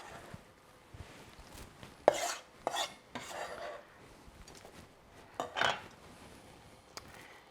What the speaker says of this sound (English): Let's get our shrimp in there.